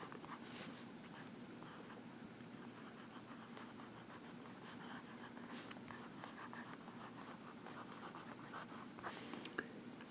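Visconti Ragtime fountain pen with a medium steel nib writing on paper, producing a soft, continuous scratchy scribble, faint and close with no voice.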